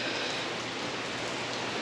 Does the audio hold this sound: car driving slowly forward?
no